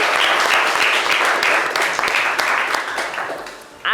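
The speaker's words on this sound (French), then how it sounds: "Viens, oui, on va l'applaudir, l'encourager." An audience at a Valentine's Day special show applauds a young woman from the public who volunteers to come up, a loud dense burst of clapping that fades slightly toward the end as a voice cuts in.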